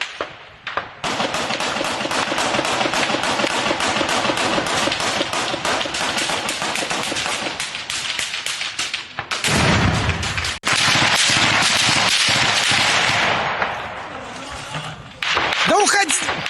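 Battlefield gunfire in Mariupol, dense rapid automatic bursts running continuously with heavier blasts mixed in, loud and close, with shouting voices over the shooting.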